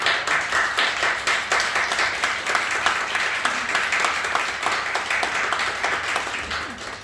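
A church congregation at a Sunday service claps continuously and evenly, a dense wash of applause that holds steady throughout.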